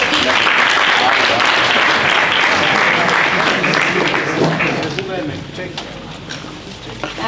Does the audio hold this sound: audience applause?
yes